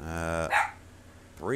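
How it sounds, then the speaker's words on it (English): A dog barks in a 7 Days to Die game session, a couple of short barks breaking up a voice that speaks before and after them, fairly close and moderately loud. "Sorry about the dog."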